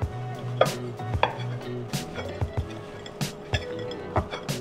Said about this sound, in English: I like to put the brownie on a plate and take a knife and cut it into small chunks